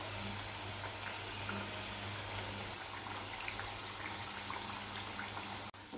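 Goan kormolas deep-frying in oil over a medium flame give a steady, close, even bubbling hiss that continues without pause, with no voices.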